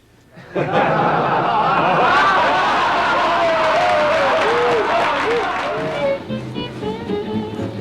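Studio audience at a comedy Q&A breaks into laughter that builds loud and dense, then thins into scattered clapping, with a voice or two audible in the crowd.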